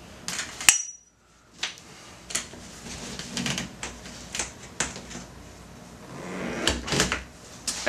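Lightweight California Sunbounce reflector panel being flipped over outdoors, a series of sharp close clicks, snaps and rattles from the frame, irregular in rhythm with a short quiet gap near the start.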